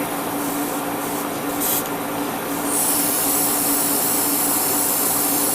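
Airbrush spraying paint in a light first coat onto a Bandai Yamato model kit, a steady close hiss that swells louder and brighter partway through and runs unbroken to the end, with no talking.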